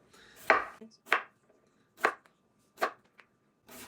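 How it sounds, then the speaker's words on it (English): A knife chops through a potato on a cutting board, giving five sharp, evenly spaced thuds about a second apart, close and crisp against a quiet background. "First, we're going to chop up our potato."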